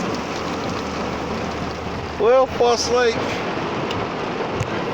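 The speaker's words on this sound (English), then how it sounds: "It's rainy." Rain falls steadily at Foss Lake, a constant hiss of drops on surfaces, while someone speaks briefly in the middle.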